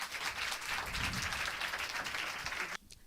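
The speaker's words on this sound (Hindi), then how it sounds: "सबसे पहले हम चाहते हैं इनके लिए तालियां बजाएं बहुत तेज" Loud applause from an audience at a pastor's 77th birthday celebration in a church, a steady dense wash of clapping that cuts off abruptly near the end.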